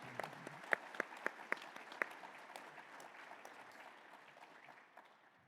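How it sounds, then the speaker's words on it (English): A modest round of applause from a small audience at a president's report presentation, with a few sharp individual claps early on, fading gradually. "Can we give that group a round of applause, please?"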